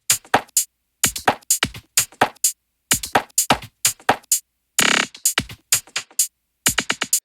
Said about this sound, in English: So what this plugin is doing is adding in skips and repeats within the loop itself.